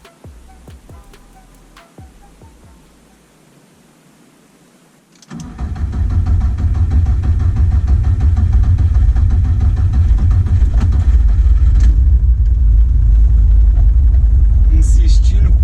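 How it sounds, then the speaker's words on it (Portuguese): A VW Saveiro G3 with a 2.0 turbo engine and HX40 turbocharger cranks after a few quiet clicks, catches suddenly and settles into a loud, rough idle that holds steady, with talk at the start. "Vamos ver como é que tá a partida do carro, do jeito que chegou, para poder manobrar ele aqui."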